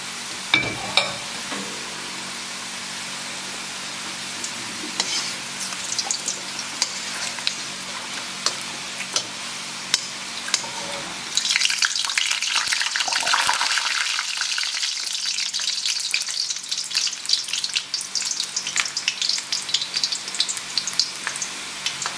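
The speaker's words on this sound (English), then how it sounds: "These will fry relatively quickly." Kue Bawang, an Indonesian snack, fries in hot oil with a steady crackling sizzle. The sizzling swells noticeably louder and denser about halfway through as more pieces go in, with occasional stirring clinks and no talking.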